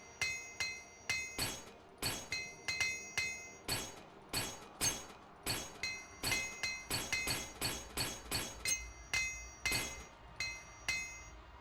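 Metallic hammer blows from repairing a bow in Morrowind with Tamriel Rebuilt: about thirty sharp, ringing clinks, struck alone in quick, fairly steady bursts, close and loud throughout.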